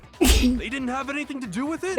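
A single sharp sneeze bursts out near the start, loud and close, followed by people continuing to talk in a courtroom-style trial scene from a video game.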